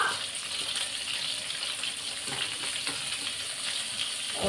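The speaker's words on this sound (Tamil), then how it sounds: "ஒரு கரண்டி வச்சு வதக்கி விடுவேன்." Onions, green chillies and turmeric being stir-fried with a ladle for a bottle gourd kulambu, a constant bright sizzle with occasional soft scraping strokes, close and steady without speech.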